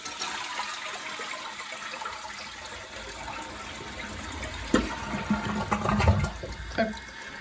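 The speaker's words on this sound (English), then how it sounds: "now the tank's full, we'll give it a test." A household toilet flushes after a new handle is fitted, water rushing and gurgling from the tank with rising, churning surges toward the end, close by and without talk.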